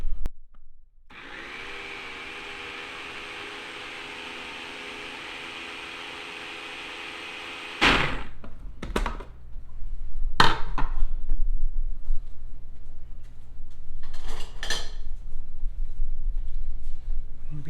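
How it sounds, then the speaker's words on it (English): A food processor blends sweet potato pie filling, its motor whirring steadily for about seven seconds before cutting off, followed by clunks and rattles of the bowl and lid being handled. "Let's see if I remember how to use the processor."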